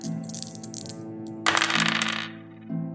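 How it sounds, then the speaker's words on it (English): Dice tumbling and clattering onto a table during a tabletop role-playing game roll, a burst of rattling hits close by after a quieter stretch, with a tonal background hum and no talking. "Let's see if these hot dice are still smoking. Rolling for hit points."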